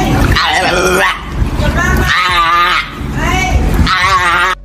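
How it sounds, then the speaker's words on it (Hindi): A dog barking loudly up close in four long, strained, yowling bursts with brief pauses between them. "अरे कौन भौंक रहा है ये बदतमीज?"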